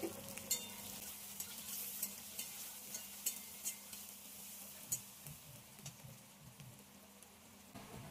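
Chopped onions sizzling in hot oil with whole cumin, green chilli and dry spices in a pan, a soft steady fry punctuated by light scrapes of a stirring spoon.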